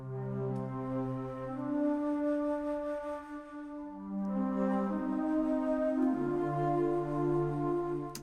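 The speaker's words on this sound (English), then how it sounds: "we have the bass flute and the alto flute playing together" A bass flute and an alto flute play sustained notes together in a slow, overlapping harmony, low, breathy, soft and unaccompanied.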